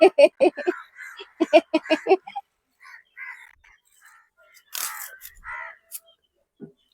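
Several crows caw in quick harsh bursts, loud and close, followed by a few scattered calls and a brief rustle after a pause.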